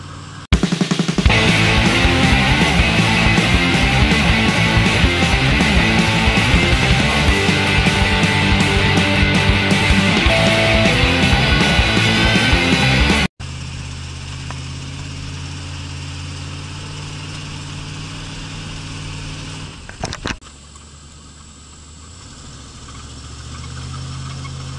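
Car engine revving and holding around 3,000 RPM in first gear on a snowy road during the first snow in Halifax, December 2016. A loud, steady roar runs for about 13 seconds, then drops to a quieter, lower drone.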